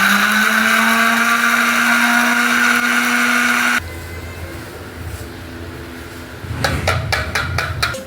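An electric grinder whines at high speed grinding a special biryani spice masala, then cuts off abruptly; afterward low rumbling and a few sharp rattling knocks follow as the jar is handled.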